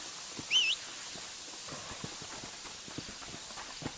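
Light, steady clip-clop of horse hooves at a walking pace in Red Dead Redemption on PS3, soft and a little distant, over a faint background hiss.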